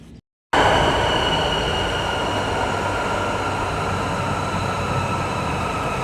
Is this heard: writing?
no